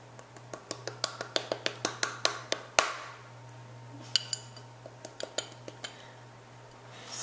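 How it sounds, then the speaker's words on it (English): Brown sugar and garlic salt spice rub stirred in a bowl with a utensil, a quick series of sharp clinks against the bowl slowing and thinning out, then a few scattered taps later, close and fairly quiet with no talk. "We're going to mix the spice rub."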